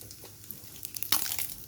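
Whole garam masala spices dropped into hot oil in a wok, a faint sizzle that suddenly swells into bright crackling spitting near the end.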